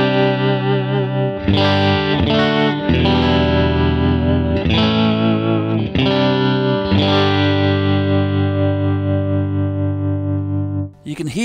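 Electric guitar played through a Souldigger tube amp with vibrato at intensity 6, several strummed chords with slight breakup, each ringing out with a pulsing wobble and the last one sustained long before stopping.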